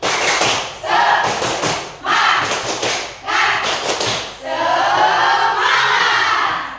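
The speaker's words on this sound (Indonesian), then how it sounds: "Tepuk semangat." A class of schoolchildren performs a spirit clap chant together, loud groups of claps in a steady rhythm with their voices chanting along, ending in a sustained group shout.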